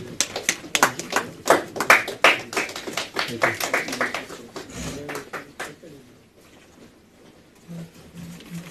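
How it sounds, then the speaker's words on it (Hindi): An audience claps in a series of sharp, fairly loud bursts at a ceremony releasing Urdu books; the applause fades out after several seconds, leaving a quiet background. "तालियों की गूंज के साथ"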